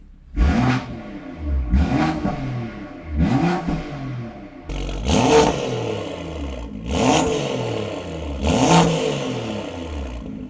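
A car with a newly installed exhaust in comfort mode is revved six times in short, evenly spaced bursts. Each rise and fall is close and clear, with quiet gaps between.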